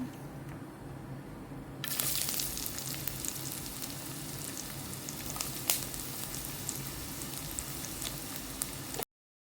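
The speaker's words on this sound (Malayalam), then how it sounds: "കടുക് പൊട്ടി വരുമ്പോൾ നമുക്ക് ആ തേങ്ങാക്കൊത്തൊന്ന് ഇട്ട് കൊടുക്കാം." Mustard seeds and coconut pieces sizzle in hot oil for a jackfruit seed dish, a steady crackling fry that grows louder after a sudden burst when the coconut goes in, with occasional stirring and no talking.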